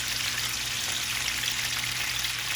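Potatoes sizzle in a hot roasting pan skillet alongside skin-on chicken with lemon, garlic and rosemary, a steady bright crackling fry that holds evenly throughout with no talking.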